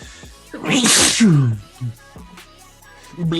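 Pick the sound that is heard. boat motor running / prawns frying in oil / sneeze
sneeze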